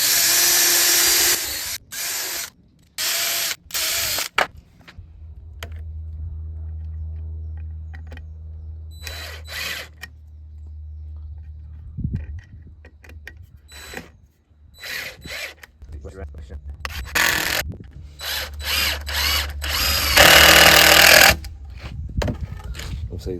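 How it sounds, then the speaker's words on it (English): A power drill with a countersink bit pre-drilling screw holes in wood while window openings are installed in an ICF house; short whirring bursts start and stop between pauses, with a low steady hum underneath and quiet gaps between passes. "I'm using a countersink bit here to help not split the wood"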